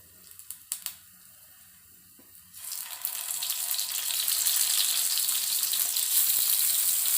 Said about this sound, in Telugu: 4 లవంగాలు, 1 చెక్క వేసుకుంటున్నాను.